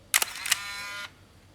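A Nikon F50 35mm SLR film camera fires its shutter up close: a sharp double click of mirror and shutter, then a second click and a brief motorized film-advance whir.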